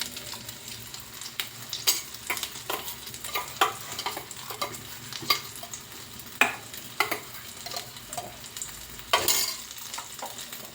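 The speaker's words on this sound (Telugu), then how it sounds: "ఈ లోపల నేను ఆమ్లెట్ కోసం ఎగ్ బీట్ చేస్తాను" Eggs are beaten for an omelette in a bowl, a brisk irregular clatter of whisking strokes tapping against the side, close and fairly quiet over a faint background hiss, with no talking.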